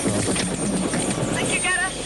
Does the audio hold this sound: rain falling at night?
no